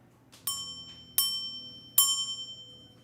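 A copper tool set with gemstones is struck like a bell three times, each strike giving a clear, bright ringing tone that fades slowly over a quiet background.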